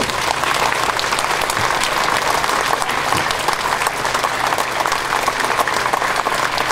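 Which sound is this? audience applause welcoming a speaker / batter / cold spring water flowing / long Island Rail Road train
audience applause welcoming a speaker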